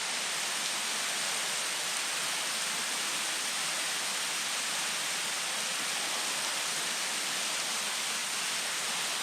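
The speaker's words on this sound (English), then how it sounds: "it started raining pretty good" Heavy rain falling at Whittleton Arch, a natural stone arch, a steady loud hiss of downpour that holds unbroken from start to finish, with no voices.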